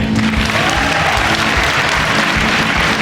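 A studio audience applauds guests on a television program, producing dense, loud, continuous clapping that fills the whole stretch without a break.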